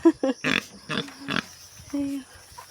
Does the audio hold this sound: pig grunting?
yes